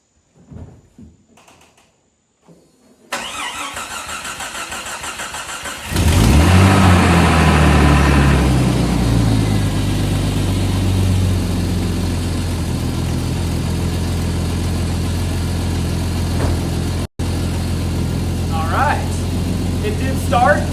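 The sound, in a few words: 1989 Jeep Cherokee Laredo engine cranking and starting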